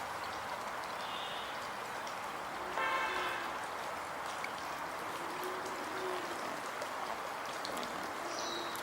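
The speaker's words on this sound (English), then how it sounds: "fixed my water feature, which was down for quite a few years" Steady broadband trickle and splash of running water, continuous and fairly close, with faint bird chirps and a brief distant tone around it.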